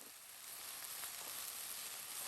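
Steady sizzling and crackling of chicken frying in a hot pan, continuous and close, with no voices.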